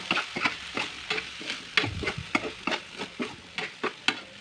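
A spoon stirs ginger and pepper in a frying pan while cooking a quick breakfast, making a regular series of scraping strokes about every half second over a soft sizzle.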